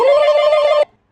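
A loud, close telephone ring sounds as one sustained warbling burst that cuts off abruptly, with no talk over it.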